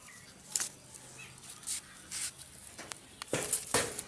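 A pigeon released by hand beats its wings in short, sharp flurries of flapping, a few quick bursts spread across a quiet moment, with a louder cluster near the end.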